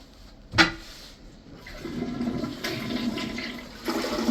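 A toilet flushes in a used house during a walk-through inspection, opening with a sharp clunk of the handle, then a sustained rushing gurgle of water that swells again near the end.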